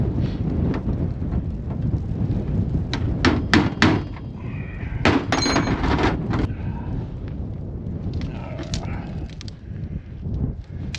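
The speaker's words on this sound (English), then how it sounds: "the carpentry hammer is not the best thing for this, but it's what I have" A carpentry hammer strikes repeatedly outdoors on a chain near gravel, a cluster of sharp hits around the first four seconds and another burst near five to six seconds, all under steady wind noise.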